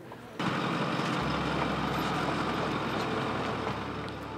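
Trucks pulling livestock trailers out of Cabeza Prieta National Wildlife Refuge, a sudden loud engine rumble and broadband road roar that holds steady and close, with a low idling drone underneath and no voices.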